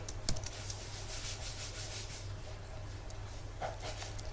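Soft keystrokes on a computer keyboard as a php artisan command for a Laravel project is typed into a terminal, a scattering of quiet clicks over a steady low hum and hiss, with no voices.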